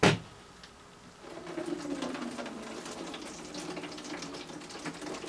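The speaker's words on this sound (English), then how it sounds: "So we'll just pour a bottle of Gatorade in this thing" A bottle of Gatorade is poured into a homemade yellow jacket bottle trap, making a soft, continuous gurgling trickle that starts after a moment and carries on faintly to the end.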